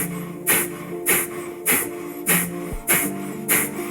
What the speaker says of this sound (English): Breath number 1 is breath of fire, which is a short, rapid exhale out the nose only